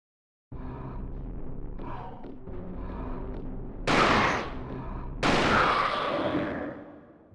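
Two loud gunshots from Alone in the Dark: The New Nightmare go off a second or so apart, each with a sharp crack and a long reverberant tail over a low, murmuring game ambience.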